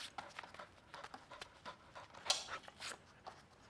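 A dog pants in quick, soft bursts during a catch training game, breathy huffs repeating close by with a brief sharper sound partway through and no talking.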